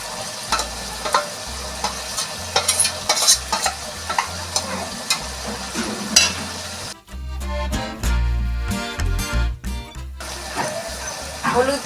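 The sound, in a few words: ginger and garlic being fried and stirred in a pan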